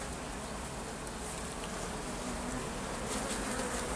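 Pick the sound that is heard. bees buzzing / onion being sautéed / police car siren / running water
bees buzzing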